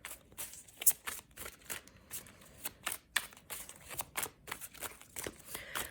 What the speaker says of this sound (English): I'm just shuffling a million times here.